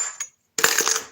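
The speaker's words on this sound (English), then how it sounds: "Here's some keys." Metal keys drop into a bucket in two bursts: a brief jingle, a pause, then a louder, longer metallic clatter and rattle close by.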